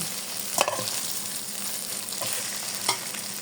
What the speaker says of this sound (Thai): ก็เลยจะผัดมานิดนึง